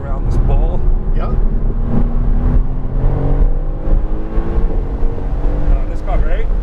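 A race car passes during morning practice warmups at New Hampshire Motor Speedway, engine whine rising and falling as it goes by, under loud excited talk from nearby people.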